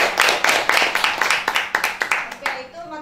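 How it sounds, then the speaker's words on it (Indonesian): Students in a madrasah classroom clap in brief, uneven rounds. Distinct hand claps ring out loud and close for about two and a half seconds, then fade as a voice starts speaking. "Oke, aplaus untuk"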